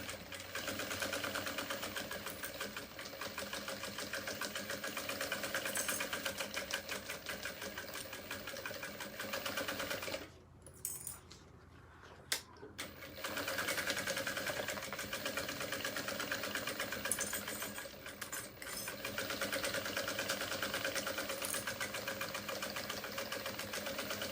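A sewing machine stitches elastic onto a fabric organizer case with a steady, close mechanical whir and rapid needle chatter, pausing briefly midway before running on again.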